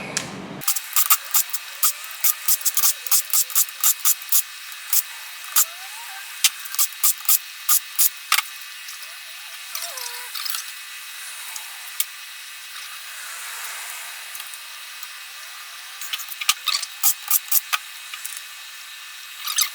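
A part being unscrewed from a 4L60E transmission with a ratchet, making long runs of rapid metallic clicks, near and steady, pausing briefly before resuming, with no talk.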